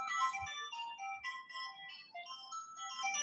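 A phone ringtone plays during an online meeting, a faint melodic electronic tune of quick stepping notes that runs continuously without talk.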